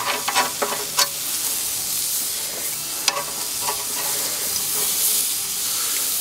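Kafta patties frying in a hot pan, a continuous loud sizzle and hiss with a few sharp pops and spatters, close up and with no talking.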